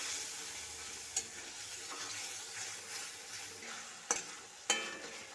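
Spice paste for a peas kofta curry being sautéed in a pan with very little oil, a soft steady sizzle with occasional scrapes and clinks of the spatula against the pan.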